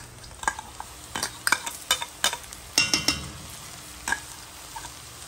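Onions and spices frying in a pan as prawn and aubergine are cooked, with a soft sizzle under repeated scraping stirs, about a dozen sharp clatters of the utensil against the pan, close and without talk.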